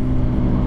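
Motorcycles from a Danish riding school, Suzuki SV650s, passing close by on a road, a steady loud engine drone with low rumble filling the short moment, no talk.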